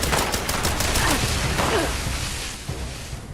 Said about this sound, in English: These are pretty serious. Assault guns.